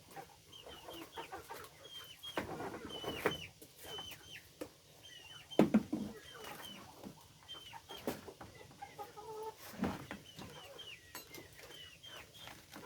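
Chickens cluck repeatedly close by in a rural Thai yard, bursts of clucking scattered across the stretch with a few louder squawks, a soft background bed of ambient noise and no clear talk.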